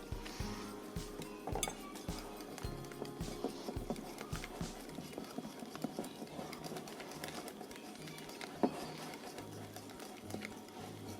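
Zucchini and egg being stirred together in a pan make repeated soft clinks and scrapes of utensil against cookware, a steady rhythmic clatter that runs near and moderately loud throughout.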